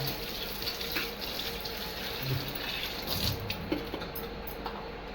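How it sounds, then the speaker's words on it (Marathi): Water runs and splashes continuously as taykulya (monsoon leafy greens) are rinsed and swished in a basin, with a steady wet rushing and occasional louder sloshes. "आता आपण भाजी स्वच्छ करूया"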